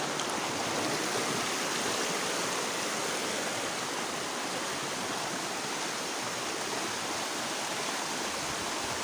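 Steady broadband rushing of a river flowing over large rocks, continuous and fairly loud, with no voices.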